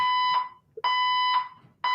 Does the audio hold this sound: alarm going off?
yes